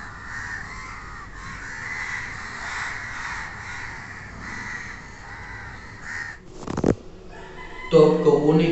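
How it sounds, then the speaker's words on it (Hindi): Crows caw loudly and repeatedly in the early morning, their harsh calls overlapping in a steady outdoor chorus, with a few sharper, closer caws and some rustling toward the end. "ये कौवे सोने नहीं देंगे"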